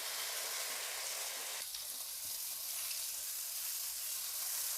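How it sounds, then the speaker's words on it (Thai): Pork marinated in fish sauce and oil grilling, a dense continuous hiss of sizzling fat that stays even throughout, fairly quiet, with no voices. "แล้วเราก็ย่างนะคะ"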